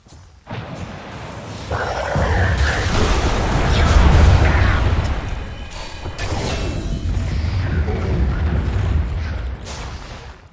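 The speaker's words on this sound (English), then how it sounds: "Radiant's top tower is under attack." A tower under attack in a video game match, with heavy booming explosions and crashing impacts rolling in waves, loud and close.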